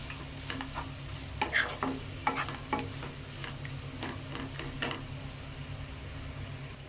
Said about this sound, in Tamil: கொஞ்சம் கருவேப்பிலை, இதெல்லாத்தையும் நல்லா மிக்ஸ் பண்ணி விட்டுடலாம்.